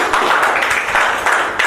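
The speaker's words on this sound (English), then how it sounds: "Please, a round of applause for him." A seminar audience gives a short round of applause for a volunteer called up on stage, a steady, fairly close clatter of many hands with no pause.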